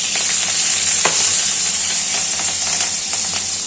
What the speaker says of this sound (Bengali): এই কাঁচা লঙ্কাগুলো দিলে খুব ফুটে।